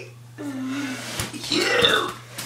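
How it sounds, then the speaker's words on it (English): Long, loud belches from a person during a spaghetti-sauce burping contest, one drawn-out burp followed by a deeper, rising second burp. "I'm not sure if people are gonna watch burping for 4 minutes."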